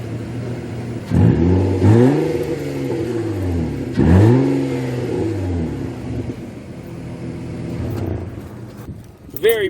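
A Nissan Altima with a VQ engine and its stock exhaust, before the resonator is fitted, revs up twice from idle with rising and falling pitch. It sounds loud and close, then settles back to a steady idle.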